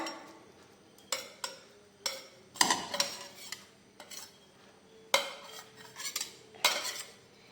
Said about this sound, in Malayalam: അതിന് ശേഷം ഇഞ്ചി, വെളുത്തുള്ളി, പച്ചമുളക് എന്നിവ ചതച്ച് വെച്ചിട്ടുണ്ട്. അത് നമുക്ക് ഇട്ട് കൊടുക്കാം.